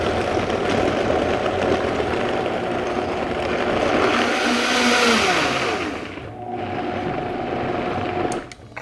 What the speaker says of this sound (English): Let's pull our Vitamix over here. Give them a go.